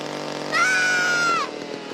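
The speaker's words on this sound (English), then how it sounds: "Mike, do you want to see my new chainsaw and hockey mask?" A chainsaw sound effect, loud and close, revs up in one sustained whine for about a second and then cuts off, set against a quiet room.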